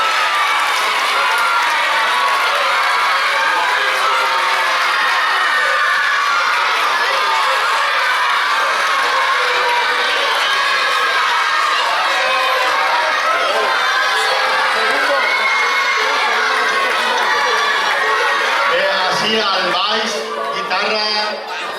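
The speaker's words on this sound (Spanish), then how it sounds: "per favor, aplaudiment" At a school charity concert, a crowd of parents and children applauds and cheers for the music teachers, a loud, continuous mix of clapping, shouts and excited voices that carries on steadily for over twenty seconds.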